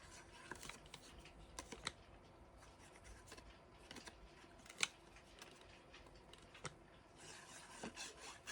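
Quiet scissors snip through craft material in scattered, irregular cuts, each a brief crisp click with soft rustling and rubbing of paper between them, faint and close with no talking.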